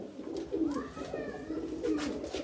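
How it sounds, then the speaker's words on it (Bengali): A teddy pigeon coos in a few soft, rolling phrases close by, with a steady low background hum underneath. "এটা কিন্তু টেডি কবুতর"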